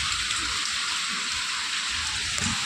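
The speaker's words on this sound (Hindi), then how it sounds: "इतनी भयंकर बारिश हो रही है ना" Heavy rain pours steadily in a dense, hissing wash, constant and close, with no other sounds standing out.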